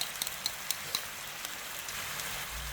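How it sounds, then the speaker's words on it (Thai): Sweet and sour sauce ingredients, tomato ketchup, soy sauce, salt, sugar and a little water, stir-fried in a pan, giving a quiet steady sizzle with a few light scraping clicks near the start. "เริ่มผัดส่วนผสมทุกอย่างให้เข้ากันให้หมดเลยนะครับ"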